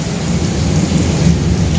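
Heavy rain pours down beside the Pasig River at the Esplanade, a loud, dense and continuous downpour with a deep low rumble throughout; no voices are heard.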